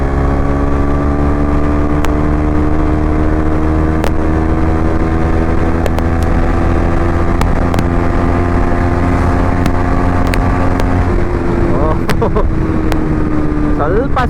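A modified KTM Duke 200 BS6 motorcycle exhaust drones loudly and steadily while riding, its pitch slowly climbing, with wind rush and occasional small clicks throughout.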